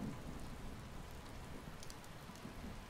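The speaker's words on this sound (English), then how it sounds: "It's raining!" Steady rainfall in the scrapping game Scrapping Simulator, a continuous even hiss of rain on surfaces at moderate level, with faint low rumbles beneath and no talking.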